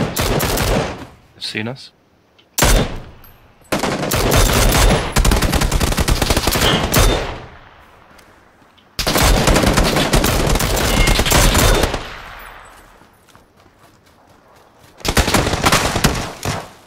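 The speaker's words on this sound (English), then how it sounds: "I'm shooting another guy." Machine gun fire in a shooting video game, long loud bursts of rapid automatic shots broken by short quiet gaps, with a voice speaking briefly between the volleys.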